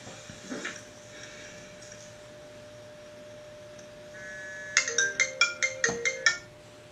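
A telephone ringtone chirps in a quick run of about eight bright, evenly spaced electronic pulses near the end, after a quiet stretch of faint room noise and a brief soft knock early on.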